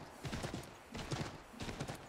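Rhythmic hoofbeats of a horse galloping at a sprint in the Assassin's Creed III video game, coming in three repeating bursts at moderate loudness with no talk over them.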